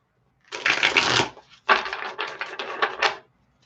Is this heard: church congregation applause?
no